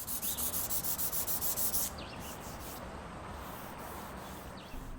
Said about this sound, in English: Once dry, I'll sand back the epoxy up to a fine 400 grit, then reapply the stain.